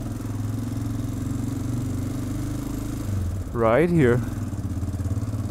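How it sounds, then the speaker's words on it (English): A broken Honda motorcycle rides through narrow city-centre streets, its engine running with a steady rough clacking throb, briefly rising in revs; a voice speaks over it. "The clacking is even louder in those small streets"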